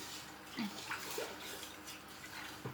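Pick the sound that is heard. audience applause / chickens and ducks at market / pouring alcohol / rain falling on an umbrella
pouring alcohol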